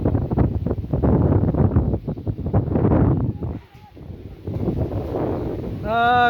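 Strong seaside wind buffets the microphone in gusty low rushes at a beach beside Bhatamatha village, dipping briefly before a short voice-like sound near the end.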